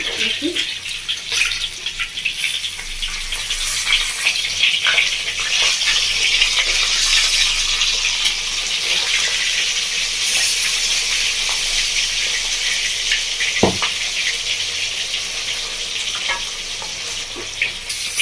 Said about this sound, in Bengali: মাছটা একটু ভালো করে লাল লাল করে ভেজে নেব।